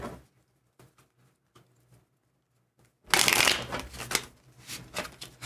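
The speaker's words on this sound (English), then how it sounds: "Let's do 2 more shuffles here." A deck of tarot cards shuffled by hand: a few soft taps and flicks in near-silence, then a loud, close burst of riffling cards that runs for a couple of seconds.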